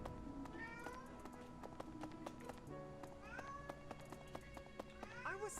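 Pet cat meows repeatedly in short rising calls up close, a quiet series scattered among light tapping and game sounds, with a voice also present.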